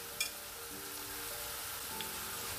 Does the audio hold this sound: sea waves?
no